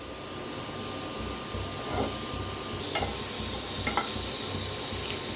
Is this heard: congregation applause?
no